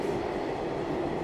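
Metro train running between the Taj Mahal and Agra Fort stations, heard from inside the car as a steady low rumble with faint clattering wheels, even and continuous.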